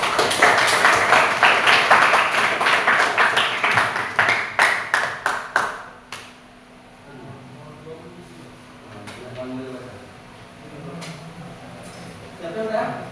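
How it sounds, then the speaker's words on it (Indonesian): A classroom group claps in a rapid rhythmic burst that speeds up and fades out, followed by quieter talk from people in the room. "Oke, tepuk tangan."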